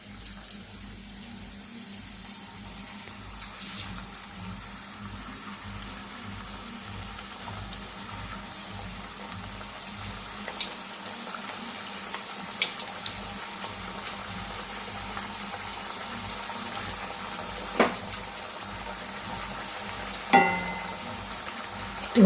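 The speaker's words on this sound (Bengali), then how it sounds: "এবার আমি চিপসগুলোকে এক এক করে দিয়ে দিচ্ছি।" Homemade potato chips, slipped one by one into hot oil over a medium-low flame, fry with a soft, continuous bubbling hiss. The sound holds steady throughout, with occasional small clicks and splashes and no voices.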